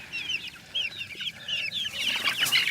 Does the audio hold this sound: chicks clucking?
yes